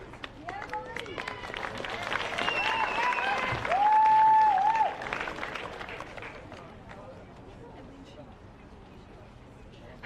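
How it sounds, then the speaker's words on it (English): Crowd applause for the silver medalists at a national under-18 women's hockey tournament final, sustained clapping and cheering with a whistle-like tone, easing off as talk continues underneath. "Please keep the round of applause going while Captain Emily Gordon comes up to say a"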